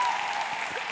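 An audience at a women's church gathering claps loudly in a brief, continuous burst with a faint murmur of crowd noise.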